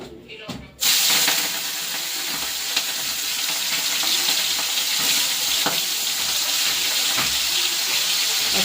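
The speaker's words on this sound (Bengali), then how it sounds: "এখন দিয়ে দেব চিংড়ি মাছটা। চিংড়ি মাছটা নুন হলুদ মাখিয়ে ভেজে নেব।" Prawns coated in salt and turmeric hit very hot oil in a kadai, starting with a sudden loud sizzle after a quiet moment, then a steady, close crackling fry that continues throughout with small pops.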